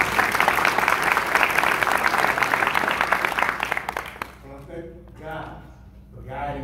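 An audience applauds loudly and steadily at a ceremony for a Congresswoman's swearing-in, the dense clapping fading out after about four seconds before a single voice begins speaking.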